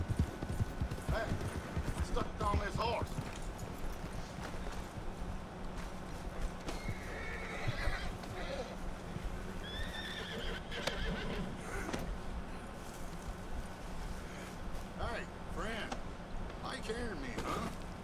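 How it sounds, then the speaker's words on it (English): A horse in Red Dead Redemption 2 neighs several times while its hooves clip-clop at a steady pace, with people talking over the sounds. "Horse."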